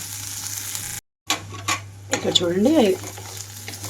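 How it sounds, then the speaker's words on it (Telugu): Onions with green chili fry in a pan, giving a steady sizzle with a scraping stir and a short cutoff partway through. A voice speaks briefly over the cooking. "ఇక్కడ ఉల్లిపాయలన్నీ వేగిపోవాలి. 2 నుంచి 3 నిమిషాల పాటు ఇలా ఉంచి వేయించుకుంటున్నాను"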